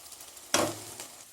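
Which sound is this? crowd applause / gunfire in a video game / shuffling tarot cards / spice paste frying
spice paste frying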